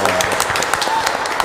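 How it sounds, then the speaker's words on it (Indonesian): Brief clapping from a congregation at a Catholic priestly ordination ceremony, a short burst of scattered, fairly close claps with a voice speaking over it. "Tepuk tangan untuk diakon."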